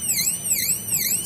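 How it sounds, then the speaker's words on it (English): Electronic temperature alarm on an embedded project board sounds a continuous warbling high-pitched tone that sweeps up and down in a repeating siren-like pattern, steady and fairly close, with no talking. "see this temperature is 27 degrees centigrade, so the alarm is ringing"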